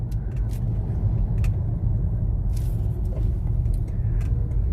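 Nissan Terra SUV engine revving as the throttle is pressed, a low steady rumble heard from inside the car with a few faint clicks, moderately loud and without talk.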